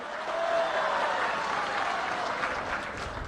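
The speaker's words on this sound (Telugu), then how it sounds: "వాస్తవం అయితే ఒక్కసారి గుర్తు తెచ్చుకొని చప్పట్లు కొట్టుండే వాస్తవని" Crowd applause at a public welfare event in a village near Vizianagaram, a continuous wash of many hands clapping, moderately loud and even throughout, with a faint sustained tone in the background early on.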